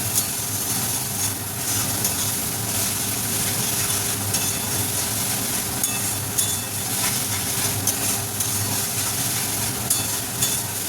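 Onion paste stirred in hot oil with whole garam masala spices and bay leaf for a potol dish, a steady dense sizzle and scraping running throughout at close range, no talk.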